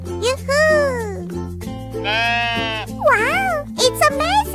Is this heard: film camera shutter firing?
no